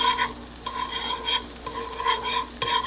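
Butter sizzles in a frying pan as it is spread around, a steady close crackle with several louder scraping strokes from a spoon or spatula every second or so; no one speaks.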